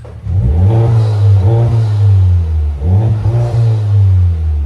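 A car engine revving through an aftermarket turbo exhaust system, two strong throttle blips rising and falling, loud and close with a deep droning tone.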